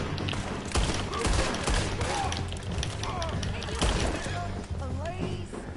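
Gunfire in the Red Dead Redemption western video game, a burst of shots and thuds mixed with game voices and talk throughout.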